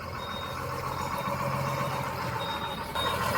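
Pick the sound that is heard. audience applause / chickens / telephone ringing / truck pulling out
truck pulling out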